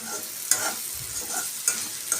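Onions frying in a pan, a steady close sizzle with a few sharp stirring scrapes from a utensil.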